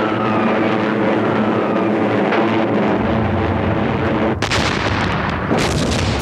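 Archival WWII battle audio of a Japanese assault backed by airstrikes: a continuous, dense roar of gunfire and explosions with aircraft noise, loud and unbroken, growing harsher and heavier partway through.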